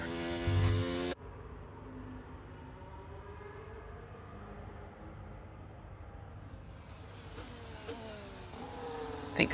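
A racing car engine in a racing video game crosses the finish line. A sudden loud burst cuts off into a thinner drone, and then several rising engine whines climb as the cars accelerate past.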